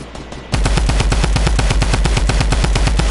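Rapid automatic gunfire in the Fortnite video game, a fast steady stream of loud close shots that starts abruptly and keeps a regular rhythm throughout.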